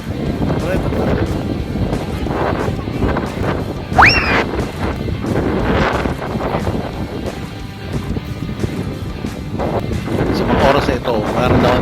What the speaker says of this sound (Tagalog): Napakalakas ng hangin.